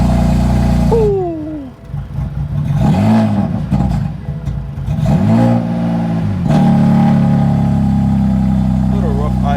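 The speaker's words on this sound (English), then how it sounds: "Little rough idle." A freshly started car engine idles roughly up close, its loud, uneven drone swelling through several rev blips that rise and fall before settling into a steady, slightly lumpy idle, with brief voices in the background.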